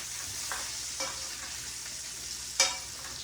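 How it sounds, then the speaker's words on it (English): Steady sizzle of onions and mushrooms sautéing in bacon grease in a hot pan, with a few scraping stirs at intervals and one sharper clatter near the end. "I am going to saute the onions and the mushrooms with some of this bacon grease."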